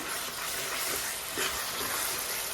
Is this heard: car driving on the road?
no